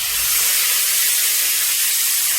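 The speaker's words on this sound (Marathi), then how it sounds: "मसाले तेलामध्ये छान प्रकारे फ्राय झाले की आपल्याला यामध्ये आपले चणे टाकायचे आहेत" Spices and chickpeas fry in oil, giving off a loud, dense, steady hiss that holds evenly through the short stretch.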